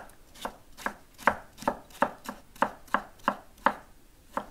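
Steady knife strokes chop vegetables for kimchi on a board, about ten crisp, evenly spaced chops ringing out close and clear with no talking.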